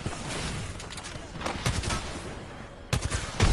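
Video game gunfire crackles in repeated bursts and single shots, fairly loud and close, forming an uneven barrage that runs through the whole stretch.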